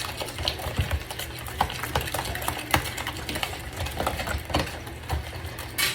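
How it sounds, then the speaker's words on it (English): Eggs and oatmeal for homemade dog food are stirred together in a bowl, giving a close, continuous wet scraping and slapping with uneven rhythmic strokes. "I'm gonna mix that eggs and the oatmeal."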